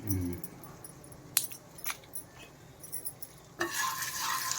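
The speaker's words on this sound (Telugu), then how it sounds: "2 ఎండుమిరపకాయలు వేస్తున్నాను తుంచి" Broken dried red chillies tempering in hot oil with turmeric for leftover-rice talimpu: faint clinks and taps, then a sudden loud sizzle that carries on steadily to the end.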